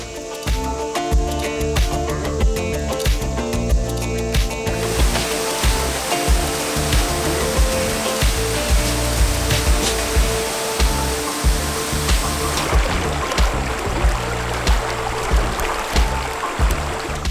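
The Duck River rushes near Big Falls, a loud, broad, continuous roar of churning water close by, steady throughout with faint clicks and knocks mixed in.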